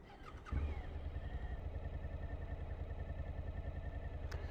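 A motorcycle engine cranks and catches, then settles into a steady, close idle that runs alone for several seconds.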